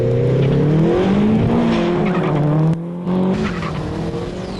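Supercharged 2.3-litre four-cylinder Mercedes SLK in a drag race, engine note climbing and dropping through gear changes alongside tire squeal, loud and close, with no talking.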